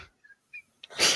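A single sharp sneeze bursts out close by after a couple of faint sharp intakes of breath, loud and abrupt.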